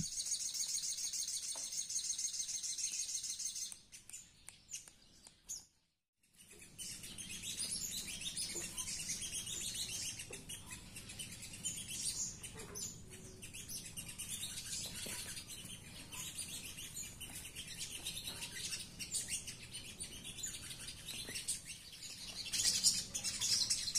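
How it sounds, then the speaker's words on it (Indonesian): Caged sogon and kolibri manggar songbirds call with bright, repeated chirps and tweets, fairly close, over a constant high insect-like hiss. There is a brief quiet gap partway through. "di bagian tengah ada burung kolibri manggar saya sebelah kiri ada si Oliver sebelah kanan ada burung sogon saya yang satunya"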